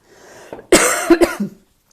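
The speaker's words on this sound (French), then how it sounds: "Je tousse" Close, dry coughing: a couple of harsh bursts in quick succession followed by a softer throat-clearing rasp, then quiet.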